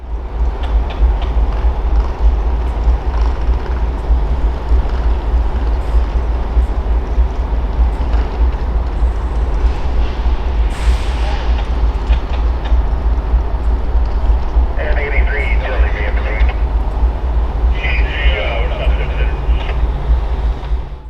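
A BNSF switcher locomotive in the Whitefish yard backs out slowly, a steady low rumble of engine and rolling stock holding throughout, with brief higher squeals and hisses partway through; a voice speaks faintly under the noise.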